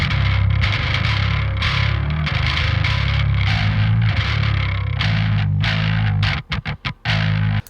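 Full mix of all the bass guitar tracks for a Carnatic progressive metal band, thick and distorted, playing a continuous heavy riff that ends in a few sharp stop-start stabs.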